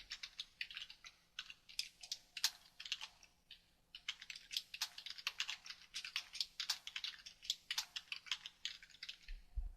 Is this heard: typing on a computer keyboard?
yes